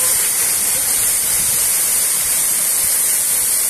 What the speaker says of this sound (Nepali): यतिको झरना चाहिँ फेरि हेरौँ त लौ।